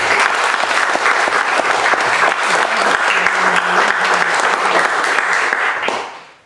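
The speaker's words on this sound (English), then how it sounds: "I think we should give them a round of applause" An audience at a Toastmasters-style club evening gives a round of applause, dense steady clapping from a room full of people that stays loud for about six seconds and then fades out quickly.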